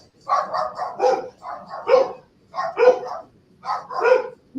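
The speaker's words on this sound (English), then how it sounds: "what is that barking?" A dog gives a rapid series of close, loud barks and yips in quick bursts with short gaps, and a voice briefly speaks between them.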